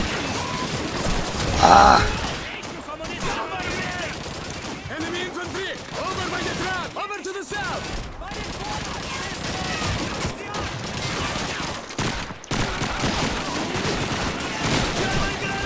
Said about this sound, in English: We got another MG42, are you kidding me?